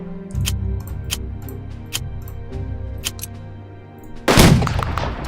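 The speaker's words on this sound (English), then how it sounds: "Let's hit them with an airstrike." Artillery fire and an airstrike in the strategy video game Unity of Command II, several sharp distant shot-like cracks over a low rumbling game soundscape, then a loud blast bursts near the end.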